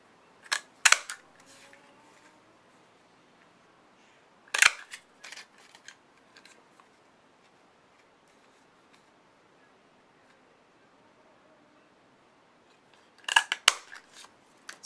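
Scissors snip through a piece of card in a few sharp bursts, a couple of cuts at the start, one in the middle and a cluster near the end, with quiet gaps between.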